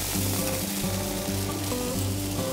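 Kebabs of mini peppers and summer squash sizzle on a grill beside beef, giving a steady, loud, dense crackle with faint tonal hums layered underneath.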